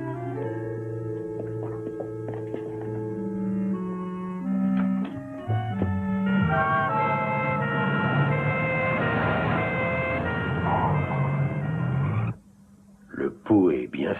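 An ambulance siren wails through a tense emergency scene in a French drama, sustained tonal wailing running for about twelve seconds under and between voices before cutting off, with more speech after.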